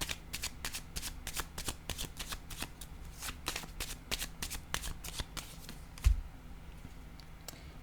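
Playing cards are shuffled and drawn in a quick, close run of crisp riffling slaps that repeats steadily, with one dull thump near the end and no talking.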